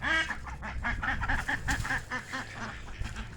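Ducks in a backyard garden quacking in a rapid, overlapping burst of nasal calls, close and fairly loud, continuing for a few seconds with no talking.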